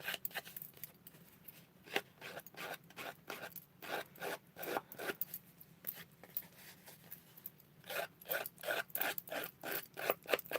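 Scissors scraped repeatedly along the edge of a card to distress it, producing close, dry rasping strokes in quick rhythmic bursts with brief pauses between runs, no voices.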